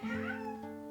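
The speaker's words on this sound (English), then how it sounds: "oh, sorry if you can hear my cat in the background" A house cat meows once in a short, clear, drawn-out call with a falling tone, fairly close and alone, in a quiet indoor room.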